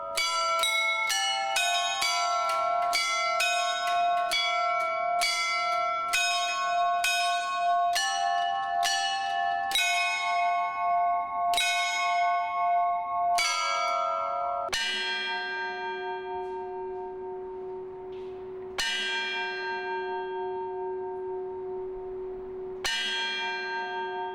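An eight-ton church bell among a set of tuned bells rings out the national anthem at midday in old Kyiv, a slow melodic sequence of clear struck tones with long ringing decays, heard without talk.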